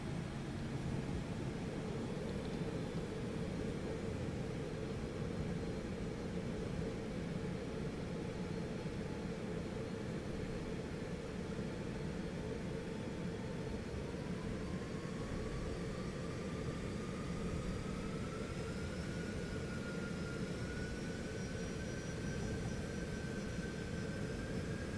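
Cessna Citation X business jet in the X-Plane 12 flight simulator, slowing on approach with flaps and gear coming down: a steady, loud broadband jet engine roar with a whine that rises in pitch partway through, continuous with no talking.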